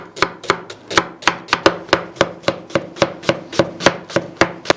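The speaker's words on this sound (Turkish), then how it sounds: "Öncelikle soğanımızı yemeklik doğrayacağız." Rapid, regular knife chops through an onion on a cutting board, about three per second, crisp and close with no talking.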